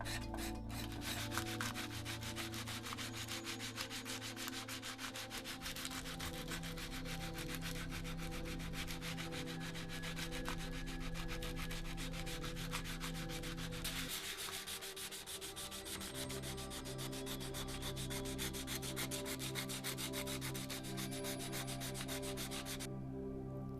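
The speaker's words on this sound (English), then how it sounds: "after lots of sanding with various grades of sandpaper, I ended up with 3 matching fletches" Continuous rhythmic sandpaper rubbing on an arrow fletching, close and steady, with quick repeated back-and-forth strokes and no voices.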